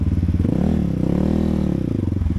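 A Geon GNS300 or CFmoto X8 motorcycle rides through an enduro park in a quarry, its engine droning steadily and loudly up close with slight rises in pitch throughout.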